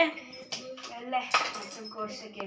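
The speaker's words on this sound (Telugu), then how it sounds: "కటింగ్ బోర్డు మీద కట్ చెయ్యే" Dishes and cutlery clatter in a home kitchen while food is cut on a cutting board, with scattered knocks and clinks at close range and a faint voice in the background.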